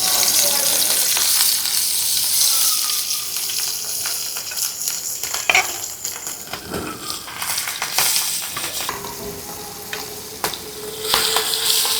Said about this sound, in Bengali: হালকা করে মাছগুলো ভেজে তারপরে ফুলকপি দিয়ে নতুন আলু দিয়ে রান্না করব রুই মাছ